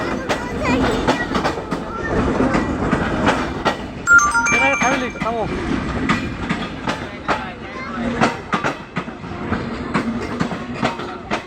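A moving train gives a continuous rumble and a rhythmic clickety-clack of wheels on the rails, heard from inside a carriage. Several people talk loudly over the noise.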